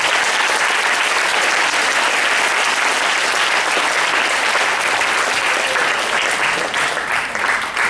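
Audience at a girls' high school gathering applauding to welcome the school principal: loud, dense, steady clapping from a large crowd, continuous for about eight seconds with no talking over it.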